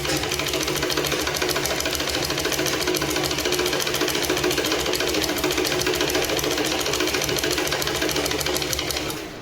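Sewing machine stitching a skirt belt, running in a fast continuous mechanical chatter with a steady loud hum throughout, no pauses.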